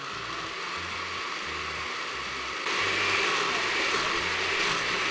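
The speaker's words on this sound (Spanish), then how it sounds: "Lo echamos aquí a la licuadora para licuar." A blender motor runs steadily while blending sauce, a loud, continuous whirring drone that grows slightly louder and harsher partway through.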